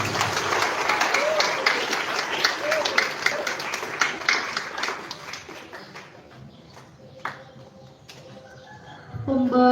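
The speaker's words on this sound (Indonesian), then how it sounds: "tepuk tangan untuk kita semua" Crowd at a school Independence Day flag ceremony claps in a long burst of outdoor applause that slowly thins and fades, then a voice comes in near the end.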